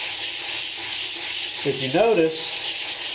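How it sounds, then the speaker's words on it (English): A 220-grit pad rubs lightly over a fiberglass cowl on an R/C model, giving a steady, even hiss that runs throughout, while a voice talks briefly over it midway. "I started just sanding lightly all over the cowl"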